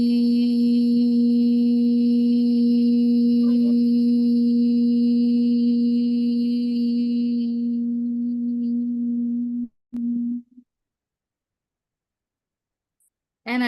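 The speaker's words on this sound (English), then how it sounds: "And I'll continue to hum till my exhale happens." A steady, sustained hum on one low pitch, held evenly for about ten seconds before trailing off into near silence.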